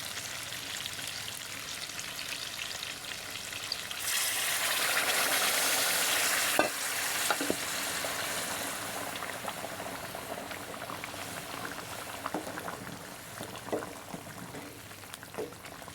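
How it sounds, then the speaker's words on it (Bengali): Hot water poured into a pot of fried, spiced chicken curry sets off a loud rushing sizzle for a couple of seconds, which settles into a softer steady bubbling with small pops and clinks. "গরম পানি দিয়ে ঝোল দিয়ে দিব।"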